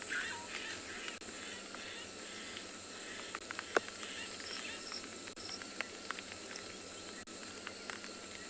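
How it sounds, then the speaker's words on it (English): Insects and frogs chirp and trill steadily in the South African bush at dusk, a dense, even layer of high buzzing with scattered sharper calls, with no talk. "Starlings, crickets, cicadas, frogs."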